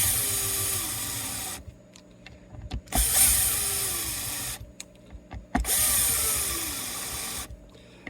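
Bosch electric screwdriver driving screws during reassembly of a vintage 1979 Strat guitar, two or three whirring motor bursts with short pauses between them, close and moderately loud.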